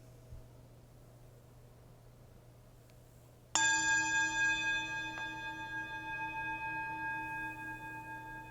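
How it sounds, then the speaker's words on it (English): A single bell or singing bowl struck during a Unitarian Universalist Sunday service, one clear strike with a long, shimmering ring that slowly fades toward silence, heard alone over a quiet room hum. "As we follow the sound of the bell into silence, we allow ourselves to arrive here fully."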